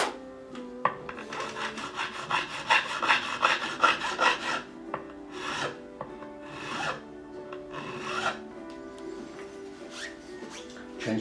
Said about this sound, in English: You'll notice I'm rolling the file away from you to get that nice crown in there.